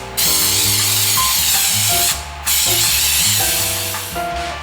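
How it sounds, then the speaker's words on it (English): A loud, steady hiss of carburetor cleaner sprayed from an aerosol can runs nearly throughout, with one brief pause midway, against a low mechanical background. "I go ahead and spray those thoroughly"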